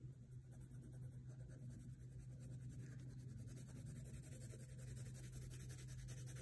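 Colored pencil lightly shading on paper with even, unpressured strokes, a soft continuous scratchy rubbing that runs steadily throughout, close and quiet, with no talking.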